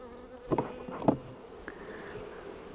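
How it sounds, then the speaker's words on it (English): Honey bees buzzing inside an opened hive, a steady low hum with a few louder buzzes as individual bees fly close, at moderate level with no voices. "there's our bees up in the super"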